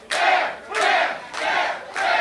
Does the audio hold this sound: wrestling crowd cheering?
yes